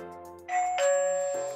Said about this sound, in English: I may want it to chime when someone opens the door